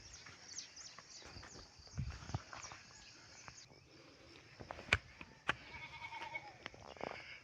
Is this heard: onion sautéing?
no